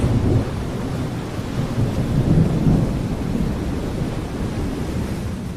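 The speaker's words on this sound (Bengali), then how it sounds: "চারদিক শুনশান শুধু বৃষ্টির শব্দ আর আকাশ থেকে শোনা যায় মেঘের গর্জন" A cartoon effect of a stormy monsoon night in a village: steady heavy rain hisses while deep rolling thunder rumbles and swells, loud and continuous, with no voices.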